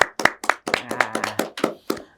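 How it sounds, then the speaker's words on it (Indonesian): High school students in an audience clapping, with sharp close hand claps, first a few separate ones and then a quick uneven run of claps, loud and alone. "Yuk beri tepuk tangan dulu yuk."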